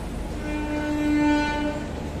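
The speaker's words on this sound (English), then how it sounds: "My train has arrived, guys. I can hear the honk." A train horn sounds one sustained, steady blast over the rumble of rail traffic, swelling and then fading.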